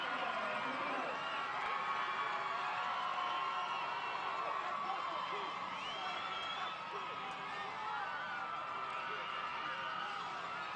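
Football crowd at a semi-final playoff game cheering and roaring after a touchdown, a sustained loud wall of shouts and whoops with a commentator talking over it throughout.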